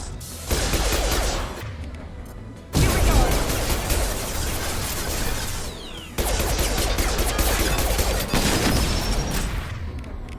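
Sustained heavy gunfire in the Mass Effect 2 video game: dense, loud volleys with booming impacts, broken by brief pauses, no voices.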